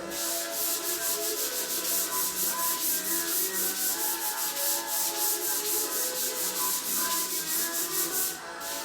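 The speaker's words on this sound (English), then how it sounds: "Now here I'll be using a sampling pack with 180 sandpaper actually, because we need to take the white off instead." Limed wooden stairs are sanded by hand with 180-grit sandpaper to strip the white finish, producing close, steady, rhythmic back-and-forth rasping strokes with no speech.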